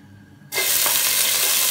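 Meat for pancit canton hits a hot pan and bursts into a loud, steady sizzle after a brief quiet moment, the frying continuing evenly with faint stirring.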